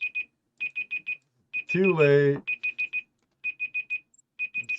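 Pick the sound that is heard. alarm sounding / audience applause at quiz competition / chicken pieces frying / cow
alarm sounding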